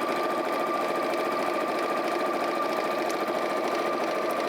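A sewing machine running continuously at steady high speed, stitching a seam on quilting fabric, with a close, even, humming whir and no pauses.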